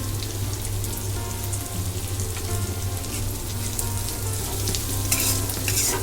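Egg fried rice sizzles steadily in a hot pan while being stirred, a dense continuous crackle like rain with occasional scraping and louder bursts toward the end, no voices.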